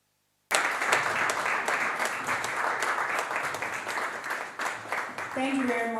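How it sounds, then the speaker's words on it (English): Audience applause after a speech on youth, debt and climate change, starting abruptly and holding as dense, steady clapping, with a voice speaking over the final moments. "To give a round of applause."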